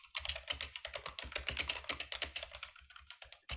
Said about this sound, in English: someone's typing away there madly